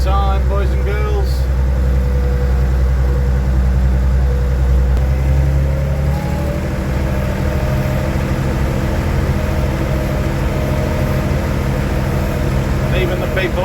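Classic tractors rumble along a road during a charity tractor run, deep low engine drone continuous throughout with a voice talking over it and passing crowd noise.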